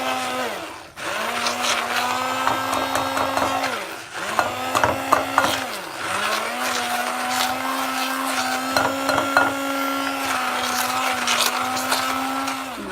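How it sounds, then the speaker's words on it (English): An electric beater whirs loudly through butter and sugar for a cake, its motor pitch dipping and recovering in repeated cycles with clattering scrapes against the bowl. "Here is butter and we have to beat it"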